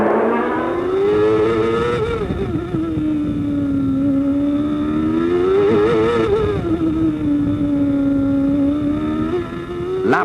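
1994 Formula One Williams and Benetton race cars scream past in a continuous loud engine wail, the pitch rising and dipping with each shift and corner.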